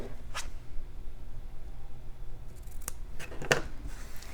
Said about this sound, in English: I'm going to do a little trim on the tails of my ribbon